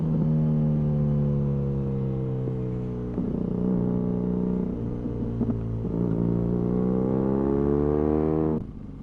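A motorcycle engine running close by, a loud steady rumbling idle with rising revs and harmonic drone, briefly dipping before climbing again and cutting off near the end.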